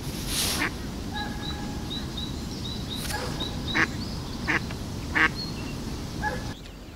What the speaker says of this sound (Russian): Да, кря-кря, и тебе кря-кря.